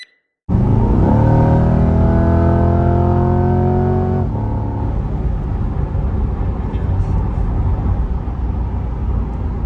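A C8 Corvette engine in track mode revs hard and loud, pitch climbing steadily, then settles into a sustained, rumbling roar as it keeps accelerating.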